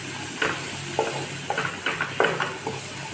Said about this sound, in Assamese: হালধি দিয়াৰ পাছত মই অকণমান লৰাই দিছোঁ, যাতে ভালদৰে মিলি যায়